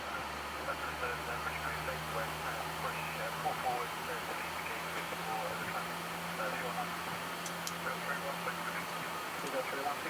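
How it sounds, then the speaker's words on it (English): Air France Boeing 777 jet engine spooling up during start on the ground, a steady low drone and broadband roar heard from the cockpit, with people talking over it. "Engine is now running and starting."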